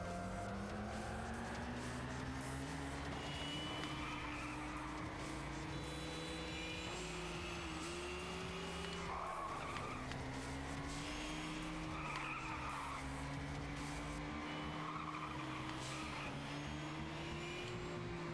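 Race cars in the video game Little Racers Street during a C-class race. Engines whine and rise steadily, and repeated tire screeches and skids cut in over the continuous loud motor drone.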